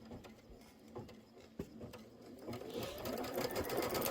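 An embroidery sewing machine stitches placement lines for quilt batting in a quilt shoppe project, with a fast, faint mechanical chatter that grows steadier and busier toward the end.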